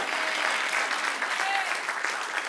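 A church congregation applauds steadily and warmly, a dense wash of clapping throughout.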